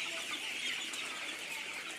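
Broiler chicks gather under heat bulbs on a winter poultry farm, keeping up a dense, continuous chorus of high peeping and chirping at moderate volume.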